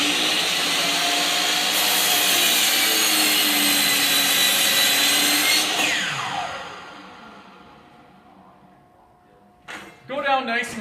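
A power saw cuts slowly through hardwood lumber, a loud steady whining roar lasting several seconds before the blade pitch drops as it spins down to a stop, followed by a brief voice.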